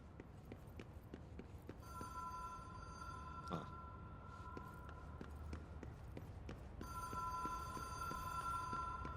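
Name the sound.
telephone ringing in a video game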